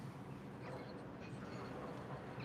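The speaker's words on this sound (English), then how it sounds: "There goes an Avanti West Coast Class 390 on its way to London Euston." An Avanti West Coast Class 390 train heading for London Euston rolls past as a faint, steady rumbling wash of wheel and rail noise with light whining tones above.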